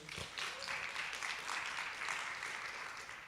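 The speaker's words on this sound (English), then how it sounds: "So give yourselves a round of applause for being here." An audience at a ballroom event applauds with a dense, steady clapping wash that stays fairly faint and distant throughout.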